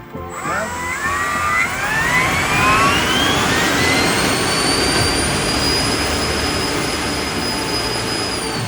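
Model RC Harrier VTOL jumpjet with electric ducted fan jets running on a thrust test, a loud rising whine that spools up over the first seconds and then holds a steady, roaring howl to the end.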